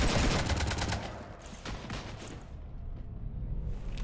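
Rapid gunfire strafing a ship in Mass Effect 3, a dense burst of repeated shots at the start that thins into scattered reports and booms, then fades to a quieter rumble with more firing near the end.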